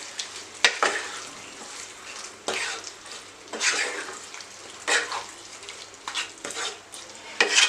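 Mutton fry cooking in a pan with spice powder, sizzling and scraping as it is stirred in repeated bursts, close and fairly loud with no talking.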